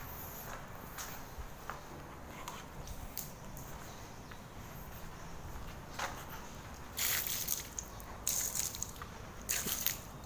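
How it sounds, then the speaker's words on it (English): Water is sprayed over a Xiaomi electric scooter while it is being washed, giving a soft steady hiss with scattered splashes and squishy contact noises, then louder bursts of spray near the end. "in order to prove that my scooter is waterproof, I will now gonna wash it using water"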